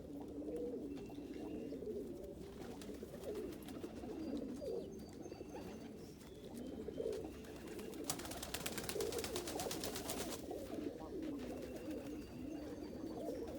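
Indian fantail pigeons, including a yellow saddle, coo in low, soft, repeated murmurs over a steady background hum, with occasional higher chirps from other birds.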